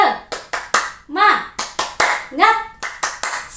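Children clap a tepuk semangat cheer in a classroom, producing a quick series of sharp, rhythmic hand claps with short pauses between groups, interleaved with children's chanted voices.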